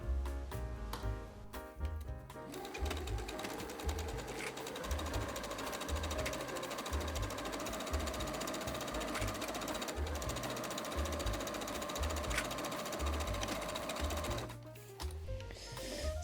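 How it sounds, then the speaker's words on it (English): A sewing machine stitching along the bottom edge of a dress, a close, steady rapid mechanical rattle running for over ten seconds, with a few short bursts and clicks at the start and end. "So simply sewing together this bottom edge here."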